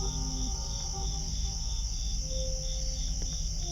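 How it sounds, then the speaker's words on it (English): Crickets chirp steadily at night in woods about half a mile from the road, a dense continuous insect trill carrying on alone with no talk. "the crickets chirping"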